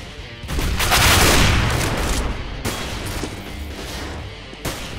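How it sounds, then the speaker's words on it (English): A grenade explodes in the game CS:GO, a loud, roaring blast that swells for about a second and then fades into a rumbling tail with gunfire-like crackle. "Throwing a grenade."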